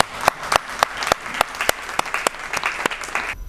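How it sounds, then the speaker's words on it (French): One pair of hands claps at a women's event in Kinshasa, about a dozen sharp, evenly spaced claps, close and loud over a faint crowd murmur. "Moi, je vous applaudis avec mes mains"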